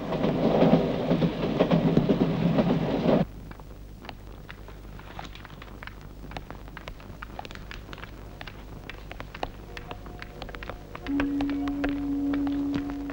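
A passenger train travelling toward Kanpur opens with a heavy rumble for about three seconds. It then drops to a softer, steady interior hum with scattered clicks, and a sustained tone rises near the end.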